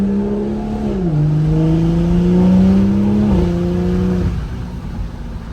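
A BMW M340i with an AWE Touring exhaust, CTS turbo downpipe and Stage 2 tune idles in sport mode, rising into a smooth sustained rev before dropping back. The exhaust drone is close and steady.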